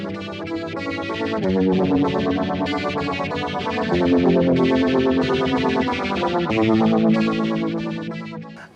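An electric guitar runs through a psychedelic Univibe patch on a Boss GT-10 multi-effects unit, playing a dense, continuous stream of swirling, distorted chords and notes at steady loudness with no talking.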